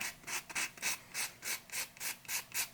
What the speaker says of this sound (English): Those I'm just going to very gently sand down